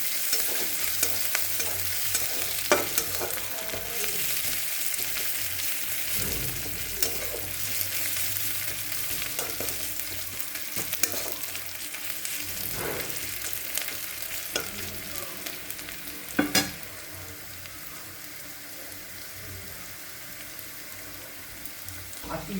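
Onions frying in oil in a home kitchen pan, stirred until soft and lightly reddish, with a steady close sizzle and scattered scraping stir strokes throughout, one sharper clank near the middle; no talk.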